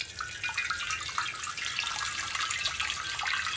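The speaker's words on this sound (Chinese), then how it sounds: "接下来锅中加水" Tap water runs steadily into a cooking pot for rice, a continuous bright splashing stream with bubbly, trickling texture, close and alone without talk.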